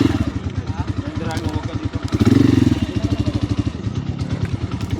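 Motorcycle engine idling and sputtering in a steady low putter while the bike is pushed downhill, with clattering and thuds along the way and talk running over it throughout.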